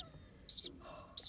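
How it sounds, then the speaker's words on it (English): A newly hatched chick in a nest gives two brief, high, thin chirps, one near the middle and one at the end, close by and fairly faint. The background is quiet, with a low murmur. "we heard chirping"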